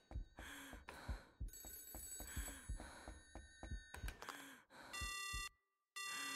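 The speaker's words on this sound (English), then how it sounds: "Your phone ringing." A telephone ringing in the horror video game Aooni, repeated bright electronic rings that start and stop several times, close and clear, mixed with game sounds and soft breathy sighs.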